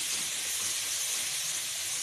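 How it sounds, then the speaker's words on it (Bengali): A steady, soft hiss of onion stalks frying in oil in a pan over a low flame, continuous and close, with no pauses or other sounds. "পেঁয়াজি কালি ভাজা হবে"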